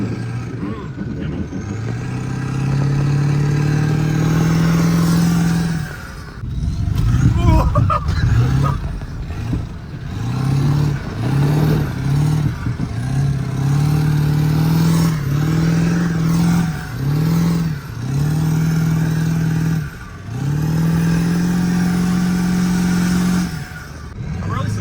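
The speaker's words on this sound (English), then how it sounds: "I didn't anticipate it being able to do donuts like this" A truck fitted with tractor tires revs hard and spins donuts, its engine rising and falling in repeated loud, close surges with brief drops between pulls, while a person talks over it.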